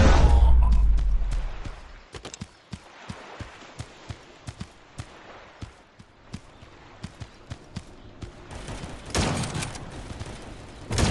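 Gunfire in the mobile shooter Guns of Boom: a run of sharp, evenly spaced shots pops out over a low rumbling game background, with a louder burst of noise near the end.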